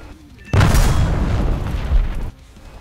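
In War Thunder, a Soviet laser-guided air-to-ground missile such as the Kh-25L or Kh-29L launches with a sudden heavy boom. A loud, rumbling blast follows for nearly two seconds, then cuts back to quiet background sound.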